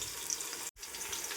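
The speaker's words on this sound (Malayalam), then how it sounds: "ആ ഉള്ളി ഒന്ന് ഏകദേശം ഇങ്ങനെ മൂത്ത് വരുന്നുണ്ട്" Chopped onion frying in a pan for chicken biryani, a steady broadband sizzle with a brief dropout midway, close and unbroken by talk.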